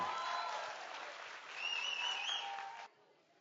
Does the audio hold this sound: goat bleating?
no